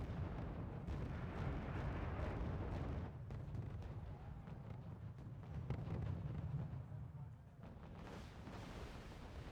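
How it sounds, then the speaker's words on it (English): Artillery fire in the Wargame: Red Dragon strategy game, a continuous dense rumble of booms and blasts at moderate level throughout, with no clear talk. "as soon as I find the infantry, I start peppering down with artillery."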